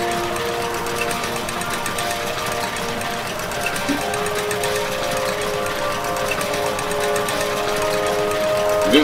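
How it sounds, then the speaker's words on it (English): Elevator ascending in the Hollow Knight video game, a long, steady mechanical hum and rattling drone with a faint tonal whine, continuous and unchanging throughout, no speech over it. "Biggest elevator in the game."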